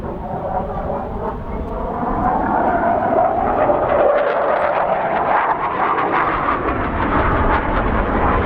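A military jet with afterburner lit roars loudly at close range at an airshow in Scotland, a harsh, rumbling blast of engine noise that swells and holds steady throughout.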